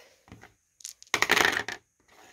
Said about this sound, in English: you're going to roll the dice.